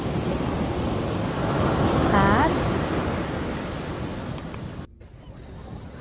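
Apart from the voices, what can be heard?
Atlantic Ocean waves on a beach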